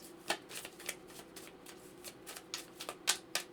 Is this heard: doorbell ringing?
no